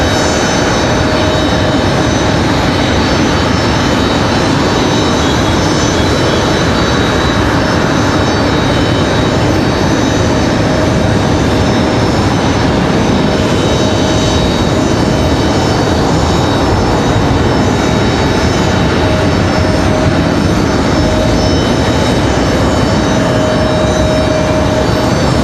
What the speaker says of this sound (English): WestJet headed to Calgary